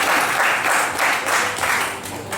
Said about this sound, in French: Applaudissez pour